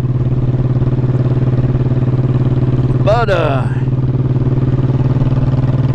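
A motorcycle engine drones steadily while riding, a loud constant hum that runs the whole time, with a brief rising whine midway and a short word spoken over it.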